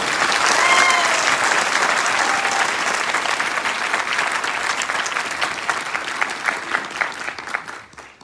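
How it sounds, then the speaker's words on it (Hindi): A large audience at an IMC business meeting claps loudly and continuously, the dense applause thinning into scattered claps and fading toward the end. "उनके लिए जबरदस्त तालियां हों"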